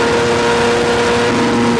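Motorcycle exhaust roaring steadily while riding at speed, a loud continuous engine drone with a sustained pitch that drops near the end, no voices.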